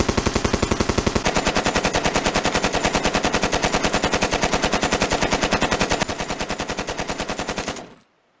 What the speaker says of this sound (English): He's just firing off a machine gun.